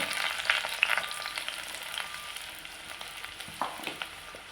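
Onions sizzle and crackle in hot oil for a tempering, a steady frying hiss with occasional sharp pops and a few stirring scrapes.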